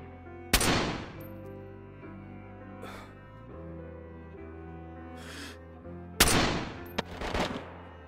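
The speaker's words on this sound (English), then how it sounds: "After every shot which lands below target, I up the distance by 100 meters" Gun test-fired in the video game DayZ: two sharp, loud shots several seconds apart, each with a decaying echo tail, separated by fainter whooshing game sounds.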